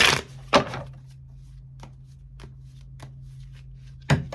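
Tarot cards being shuffled by hand, two loud riffling bursts at the start and end with a few soft taps of card handling between them, close up against a low steady hum.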